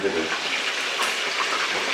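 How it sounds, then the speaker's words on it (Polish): Food sizzles and crackles in hot oil, a steady close frying hiss with a voice speaking faintly underneath, as batches of game meat are fried for canning. "Tu się jeszcze smażę kolejne porcje."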